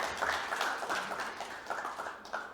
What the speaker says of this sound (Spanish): les podemos aplaudir, por supuesto